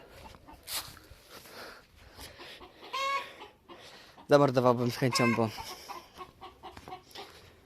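Three broody hens cluck and squawk in short bursts near the microphone, with one loud cackling outburst, while someone talks quietly.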